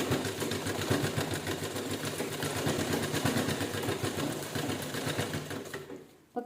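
A sewing machine stitches fabric scraps into a doormat, running at a fast, even rhythmic whir with a close mechanical chatter that stops abruptly near the end, followed by a brief clunk.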